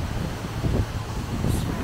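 Strong wind rushes across an outdoor Las Vegas Strip walkway near the Venetian Resort, a loud, steady buffeting roar with gusty swells close to the microphone.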